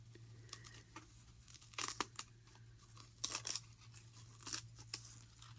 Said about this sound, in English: I'm not even sure why I'm peeling this off.